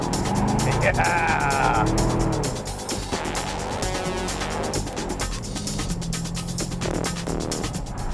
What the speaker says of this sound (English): Driving in the Camaro, old school but new school. Sounding good, feeling good.